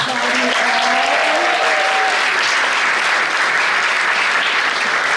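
Sustained, loud applause from the audience at the Upper Keys BPW 2016 political forum, a thick, even roar of many hands clapping that holds steady throughout, with a faint voice briefly audible at the start.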